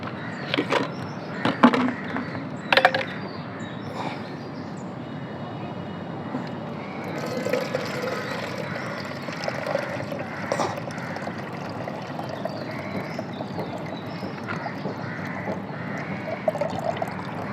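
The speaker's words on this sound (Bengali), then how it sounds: "তো এটি আমি ছেঁকে ফেলবো ছেঁকে আপনাদেরকে দেখাচ্ছি" Water soaked with onion peels is strained, trickling and dripping steadily with splashes and a few sharp clatters near the start, close and moderately loud.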